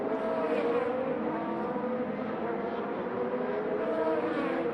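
Scott Dixon's PNC Bank Honda IndyCar runs in practice at the Detroit Grand Prix street circuit, a steady, sustained engine whine heard at moderate distance under continuous ambient noise.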